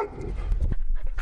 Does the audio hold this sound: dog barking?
yes